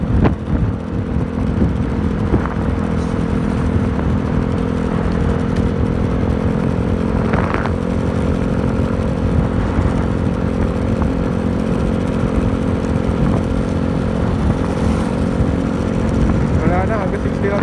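Yamaha Mio Gear 125 scooter engine droning steadily while riding on a mountain road, loud and close with constant wind rush, a few brief clatters, and a rider's voice at times.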